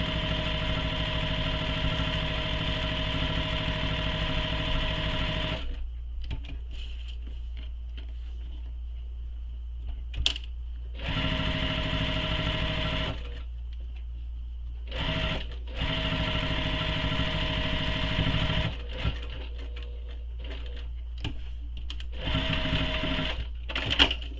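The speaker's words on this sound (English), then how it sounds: "I'm sewing down the other side now" A sewing machine stitches down a shoulder bag strap, running in long steady bursts with a constant motor whine, stopping and restarting several times with brief pauses and small clicks, close and loud with no talk.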